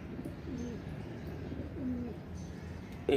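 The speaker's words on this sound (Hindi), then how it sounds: "ये देखें जी हमारे हरे रंगों वाला कबूतर बैठ रहा है।" Green-coloured pigeon giving a short series of soft, low coos close by, with light background noise and a brief sharper sound at the end.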